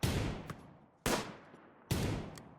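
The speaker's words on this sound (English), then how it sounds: "Damn, Otter is still living after taking multiple gunshots." Three loud gunshots from the colony-building video game Rimworld come about a second apart, each one a sharp crack that dies away into a short tail, with no voices.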